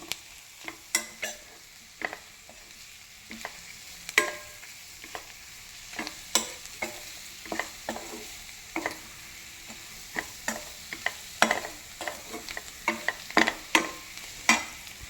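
Mushroom roast sautéing with added spice powders: repeated spatula scrapes and clacks against the pan keep an irregular rhythm over a soft, constant sizzle.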